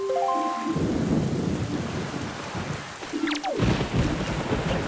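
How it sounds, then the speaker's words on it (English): Rain and thunder in the Zelda: The Wind Waker HD video game: steady loud rainfall throughout, with a rolling thunder crash near the end, alongside short in-game musical tones. "Jeez, it's all rainy and shit."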